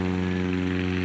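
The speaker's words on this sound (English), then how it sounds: "A Cessna 170 taking off at 126 feet." A Cessna 170 propeller plane taking off on a short-field run at an airshow, its engine and prop giving a loud, steady droning hum for about a second with no voices.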